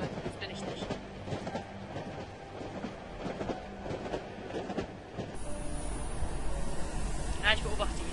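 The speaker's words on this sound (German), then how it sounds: "Sitze ich gerade in einem Zug?" A train rolls along rails in the horror video game Cry of Fear, a continuous rumbling clatter with rhythmic clicks that swells louder and harsher partway through, with a hiss layered on top.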